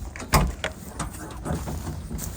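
The cab door of a mini tractor, a Jinma 404CN or Kentavr 404SD, opens with a sharp metallic clunk followed by a few softer latch and hinge knocks, close by in an outdoor setting.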